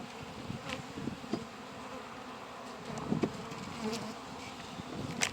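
Honey bees buzz steadily close by as spring hive boxes are opened and reversed, a dense insect drone holding for several seconds with a few brief knocks and swells.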